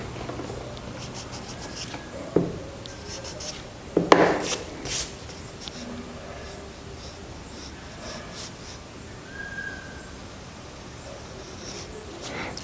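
Graphite pencil strokes rub and scratch across paper while lines are darkened on an isometric cylinder drawing, a soft steady rasp with a few sharper taps, close and unaccompanied by talk.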